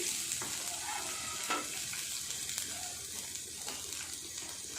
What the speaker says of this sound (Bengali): সুন্দর করে সবগুলো ভেজে নেব, খুব বেশি ভাজবো না, হালকা করে একটু ভেজে নেব